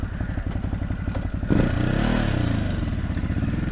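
A 2019 Ducati Hypermotard 950 motorcycle engine runs nearby with a lumpy, rhythmic idle, then a clunk and a slight rise to a fuller, steady throb.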